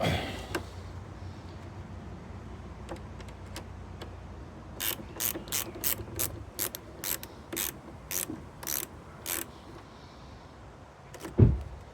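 Ratchet wrench clicking in a rapid series of sharp, evenly spaced ticks while loosening the 13mm negative battery terminal nut on a Land Rover Discovery 2 TD5, close and clear, ending with a louder clunk.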